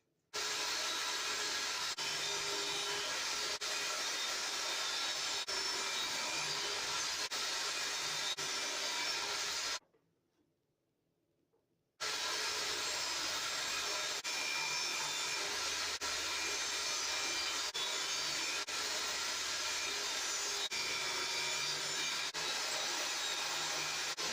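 Power saw ripping a wooden board down to height for a beer gift box side, a loud steady broadband whine running continuously, cutting out briefly near the middle before resuming at full level to the end.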